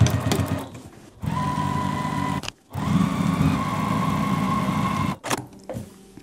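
A sewing machine stitches a quilted pillow, backstitching at the stops and starts: a steady close mechanical whir with a faint hum, running in two long stretches broken by short halts, no voices.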